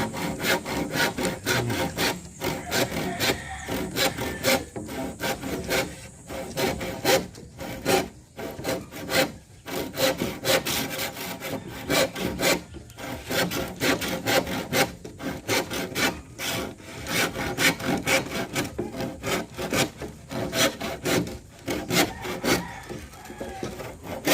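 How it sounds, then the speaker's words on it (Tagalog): Steady back-and-forth rasping of a hand saw cutting through bamboo, loud and close, with rhythmic strokes and brief pauses throughout. "Gamit po ang lagari, pwede nating putulin ang kawayan."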